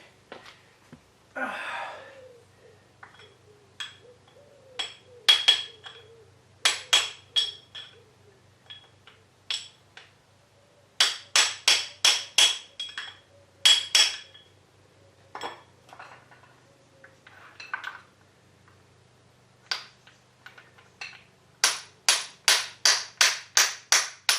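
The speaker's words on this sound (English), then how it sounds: "So, whilst tapping this bush that way" Tapping a bush into the feed gearbox of a Harrison M300 lathe: quiet, metallic taps come in separate bursts, some as fast runs of evenly spaced strikes, with soft breathing between them.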